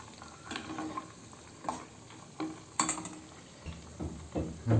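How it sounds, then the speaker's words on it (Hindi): Homemade desi ghee simmering in a pan with the gas off, giving a soft steady crackle and sizzle with occasional scrapes and clinks of a utensil against the metal. "घी देख सकते हैं आप अभी भी अपनी गर्मी के कारण उबल रहा है"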